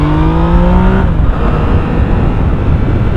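Yamaha MT-09 three-cylinder motorcycle engine revving loudly and close, a steady throaty roar with a rising whine in the first second, then a broad rushing engine and wind noise.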